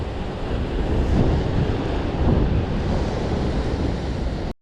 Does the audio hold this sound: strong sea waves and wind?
yes